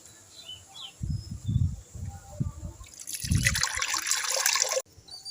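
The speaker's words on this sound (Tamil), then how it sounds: "புளி கரைச்சிட்டு எடுத்துக்கலாம்." Tamarind squeezed and dissolved in water by hand for a village-style fish curry, heard as close, squelchy wet pulses followed by a steady burst of splashing and trickling water, with no talking.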